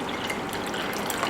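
Mineral water pours steadily into a measuring container for soap making, a brief continuous splashing flow heard up close with no talking.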